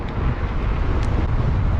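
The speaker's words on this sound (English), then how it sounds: "And it's windy again." Wind buffets the microphone on a rainy, blustery bike ride, a loud continuous low roar of gusts with no talking.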